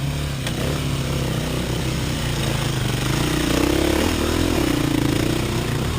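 KTM enduro motorcycle climbing a rutty hill, its engine droning steadily and loudly throughout, the pitch rising and straining partway through as the rider works up the slope, with no voices.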